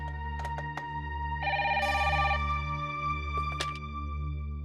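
A telephone rings in repeated bursts over a steady low hum, with a few soft knocks and clicks around it.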